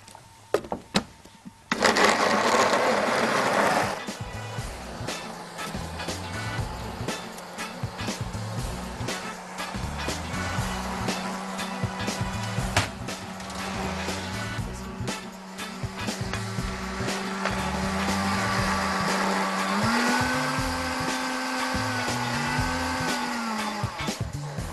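Kitchen blender whirring through fresh tomatoes with a little water, a loud continuous motor drone that shifts pitch as the load changes, with a rising whine near the end.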